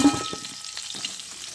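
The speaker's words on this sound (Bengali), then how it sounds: "এবার একটা ঢাকনা লাগিয়ে আলু আর পটলটাকে একসঙ্গে করে ভেজে নিতে হবে।" Potatoes and pointed gourd frying in oil, a close, crackling sizzle with a few spoon clinks and stirring scrapes early on, thinning to a quieter fry.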